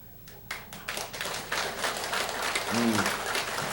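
An audience at a lecture on family happiness breaks into applause, starting with scattered claps and swelling into dense, continuous clapping, with a voice briefly heard near the end.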